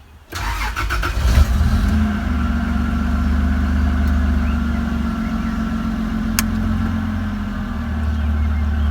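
A Toyota Land Cruiser 80 Series engine cranks and catches, then settles into a steady, smooth idle with a low rumble that continues to the end.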